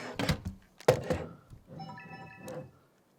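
Small plastic thunks and clicks come up close as an SD card is taken out from under a little flap on a camera, with a couple of sharp taps followed by faint rattling.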